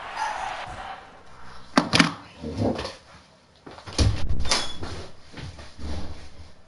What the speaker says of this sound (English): What goddamn barking, man?